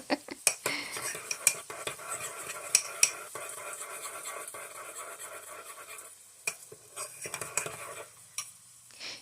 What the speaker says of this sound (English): now I can get back to mixing up the the sauce